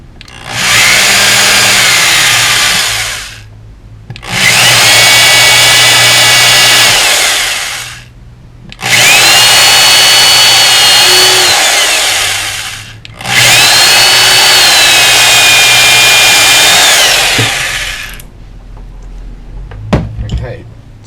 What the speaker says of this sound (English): Oh, turn that drill back around.